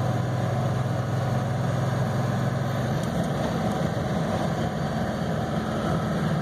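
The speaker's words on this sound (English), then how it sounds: "It does have kind of that hot rod exhaust on it." A 1989 Ford F350 with a 7.3L IDI diesel and a hot-rod style exhaust runs steadily while driving, a loud, constant low engine drone and exhaust rumble heard from inside the cab without pause.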